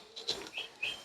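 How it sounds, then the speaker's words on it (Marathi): Birds chirp in a forest park near Baneshwar temple at Nasrapur, Pune, with a few faint, high, short calls scattered over a quiet background. "तर गेट मधून आतमध्ये येताच वेगवेगळ्या पक्ष्यांचे आवाज ऐकायला आले."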